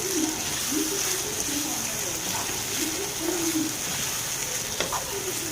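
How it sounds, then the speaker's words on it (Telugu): Boti curry fries steadily in a pan with a continuous sizzle as dried coconut paste is stirred in, with soft repeated scraping strokes throughout and a person talking over the cooking. "మొత్తం వేసేసుకొని బాగా మిక్స్ చేయాలండి."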